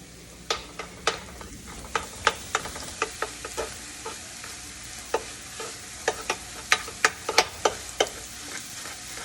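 Sausage sizzles steadily in a frying pan while a spatula scrapes and stirs it, producing a quick, irregular series of sharp clicking strokes over the constant frying hiss.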